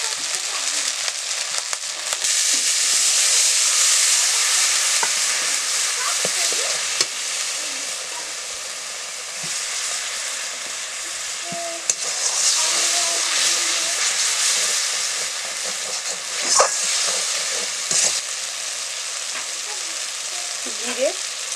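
Chopped tomatoes and chili powder frying in a pan for a Bengali home-cooked lunch, a loud, steady sizzle and hiss running throughout with occasional stirring scrapes.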